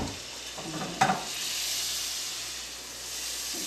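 Butter sizzles steadily in a pot, ready for salted whiting fish, a soft continuous hiss with one brief clatter near the start and no talk.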